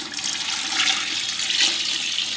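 Water-glassing solution pours steadily into a bucket of eggs, a continuous close, splashing liquid rush with no pauses.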